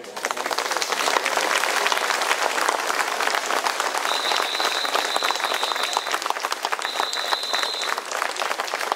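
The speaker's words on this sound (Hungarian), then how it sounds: "Én azt kérem, hogy tapsoljuk meg újra őket." Sustained applause from a crowd at an outdoor political protest rally against a tobacco-shop licensing scandal, steady dense clapping throughout with a faint high whistle-like tone partway through.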